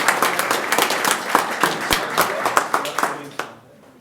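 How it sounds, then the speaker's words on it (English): A county board meeting audience applauds, a room full of close, sharp handclaps with some voices mixed in, fading out after about three and a half seconds. "All right, please give him a round of applause."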